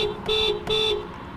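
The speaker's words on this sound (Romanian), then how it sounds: "Claxonul." A Honda Civic 1.5 VTEC Turbo sounds its horn in two short, loud blasts separated by a brief gap, a bright dual-tone honk heard close up.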